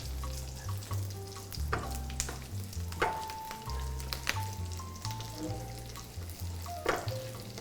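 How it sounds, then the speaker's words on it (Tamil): Curry leaves crackle and sizzle in hot oil while an Erode Nallampatti chicken roast masala fries, a steady close spitting with occasional stirring scrapes and a low hum underneath. "கறி லீவ்ஸ் போட்டுனையும் இந்த ஒரு சத்தமே ஒரு அழகான சத்தம்."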